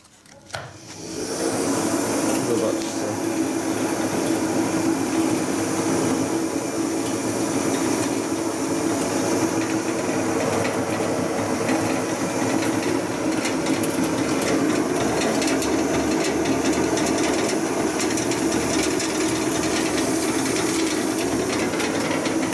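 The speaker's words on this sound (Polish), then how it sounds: "trochę większą ilość jabłek można na takiej rozdrabniarce przerobić" Homemade apple shredder driven by a washing-machine motor, grinding apples for wine: a loud, steady whirring and grinding roar that starts abruptly and runs unbroken for over twenty seconds, with no talking.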